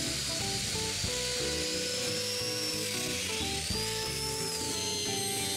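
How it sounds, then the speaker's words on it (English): A power tool drills domino mortises into scrap plywood, giving a continuous, even motor whine with airy hiss and faint rhythmic cutting texture, steady and close throughout. "When it's got the right size, I mark for domino mortises and drill them."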